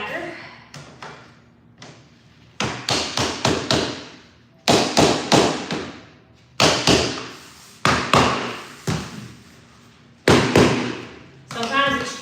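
Repeated sharp thuds from a whacker tapping flooring boards into place in an old house, arriving in irregular bursts of several knocks with pauses between, loud and close.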